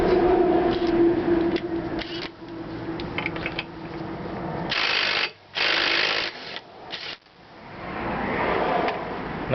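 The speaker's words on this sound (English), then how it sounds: "Since I don't have the variator tool to hold the outer pulley on the variator, I use a impact wrench. This is a cordless one." A cordless impact wrench works on the variator nut of a Honda NHX110 scooter, firing three short, loud rattling bursts in quick succession after a stretch of quieter mechanical clatter and handling noise.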